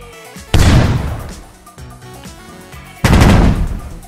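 Tank gun fire in the mobile game Tank Heroes: two loud, booming bursts of rapid shots, each with a sharp onset and a long rumbling decay, over a faint game background.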